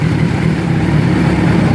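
Big bike motorcycle fitted with a switchable exhaust noise controller, idling with a steady, muffled low rumble close by, no voices.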